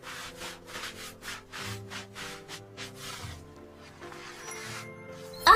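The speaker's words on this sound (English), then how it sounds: "Scrub the pan with a sponge." A sponge scrubbing a pan in quick, repeated rubbing strokes, close and moderately loud, slowing and fading toward the end over faint background tones.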